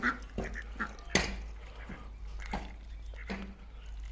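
Several ducks quack in short, scattered calls over a low steady hum, fairly faint and close by, with some bursts overlapping.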